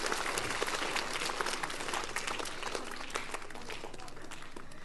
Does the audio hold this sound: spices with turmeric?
no